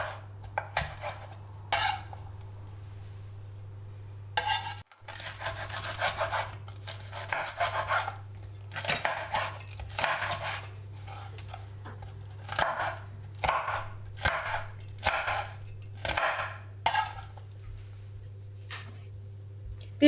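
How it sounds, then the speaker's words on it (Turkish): Green and kapya peppers being cut into large pieces on a cutting board: a steady series of crisp knife strikes in irregular bursts over twenty seconds, close and distinct, over a faint constant hum. "Sırada yeşil biberlerimiz ve kapya biberlerimiz var. Onları da iri olarak doğruyoruz."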